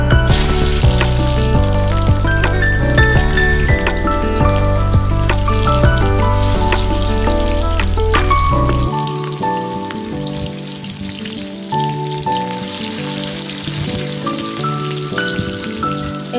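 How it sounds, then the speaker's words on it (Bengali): Chopped onions fry in a pan over melted sugar, a dense, steady hiss like rain running beneath prominent background music throughout. "এদিকে পেঁয়াজগুলো ভাজা হতে থাক।"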